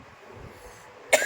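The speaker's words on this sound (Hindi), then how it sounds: "और बार बार खांसी जैसी आ रही है" After a quiet stretch, a person gives one short, sharp cough at the end, close and clear.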